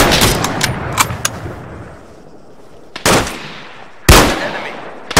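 A rapid, loud machine gun burst rattles up close, followed by scattered single gunshots and two heavy reports, with no voice.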